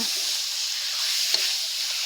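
Free-range chicken pieces sizzle and fry steadily in curry paste in a hot pan, a constant hiss with a brief clink of a utensil stirring partway through.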